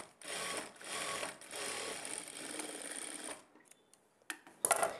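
Sewing machine top-stitching folded piping cloth on a blouse, running in a steady fast whir for several seconds, briefly stopping, then a few short clicks and bursts close up.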